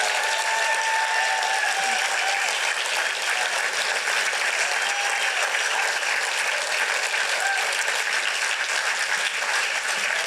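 A packed audience at a PechaKucha Night presenters' event in Burlington breaks into a big round of applause, a dense, loud, unbroken wash of clapping that holds steady from start to finish.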